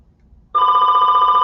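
An indoor telephone starts to ring after a short silence, loud and close, its bright trilling bell holding steady to the end.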